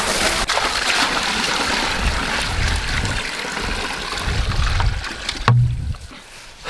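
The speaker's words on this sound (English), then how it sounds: "Pouring in some water." Water pouring steadily into a goat trough outdoors, a continuous splashing rush that cuts off near the end, followed by a brief clunk; no voices.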